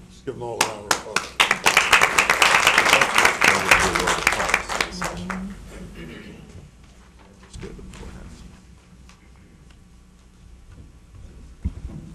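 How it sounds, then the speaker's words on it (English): A crowd at a city council meeting bursts into loud applause after awards, dying away after several seconds, followed by quiet room noise and a few faint sounds. "Give them all a round of applause."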